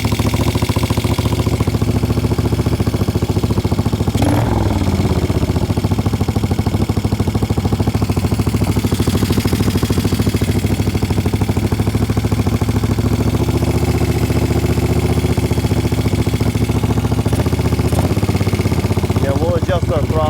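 A 1975 Moto Guzzi cafe racer motorcycle idles up close with a loud, steady, slightly uneven mechanical chug that runs unbroken for the whole stretch.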